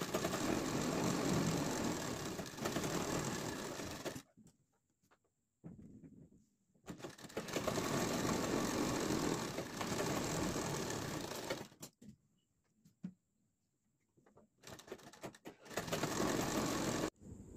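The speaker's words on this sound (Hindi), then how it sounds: "इसके बाद में हम यहाँ इसके दूसरे तरफ ऐसे सिलाई लगाएंगे।" Sewing machine stitching pintuck rows into fabric for palazzo pants, running in several loud sustained bursts with short quiet pauses between them, no talking.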